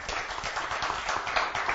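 An audience at a Giro del Veneto Coppa Placci 2012 cycling gathering applauds with steady, dense clapping that sounds somewhat distant and moderately quiet throughout.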